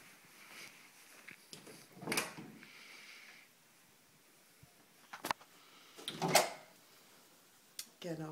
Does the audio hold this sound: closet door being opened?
yes